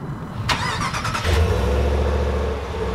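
A 2020 Ram 1500 Limited with a 5.7 liter V8 is remote started: a brief whirring crank, then the engine catches with a deep rumble and settles into a steady, close idle.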